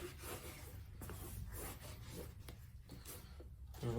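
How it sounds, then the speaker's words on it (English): Stiff brush scrubbing a soapy Undefeated Nike Dunk Low sneaker, a steady rasping rub that runs without pause for about four seconds, close and moderately loud. "Give it a nice little scrub"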